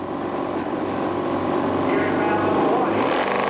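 Drag racing motorcycles idle and rumble at the staging line, a steady loud engine drone with a slight rise near the end, under a track announcer's voice.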